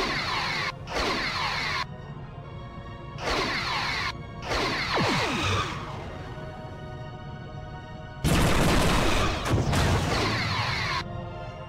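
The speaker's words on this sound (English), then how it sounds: "Sabre class has those new style torpedoes as well." A Sabre class starship fires torpedoes in the Star Trek Bridge Commander video game: loud whooshing launch bursts separated by short silences, ending in a longer, heavier blast.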